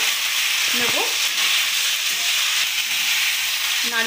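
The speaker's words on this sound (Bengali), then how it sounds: "আলু আর কুমড়োটা ভেজে নেওয়ার জন্য, একটু লাল করে ভেজে নেব।" Loud, constant sizzle of potatoes and pumpkin frying in a pan, with occasional scraping and clinks of a utensil stirring them, close up and without speech.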